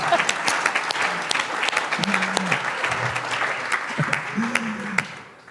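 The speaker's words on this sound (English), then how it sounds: "Loud round of applause, please." Audience applause at an event honouring human music directors, continuous clapping from a crowd with a few brief voices and tones audible underneath.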